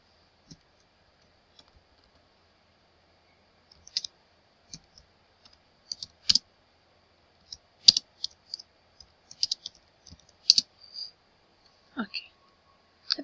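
Typing on a computer keyboard while entering text in a presentation editor, sparse irregular clicks and short bursts of keystrokes, close and clear against near silence.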